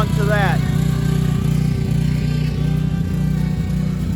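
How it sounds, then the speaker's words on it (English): A portable generator runs steadily on a job site where a mailbox is being fitted, its low engine drone continuous and loud throughout, with a brief higher whine near the start. "we've got the generator running"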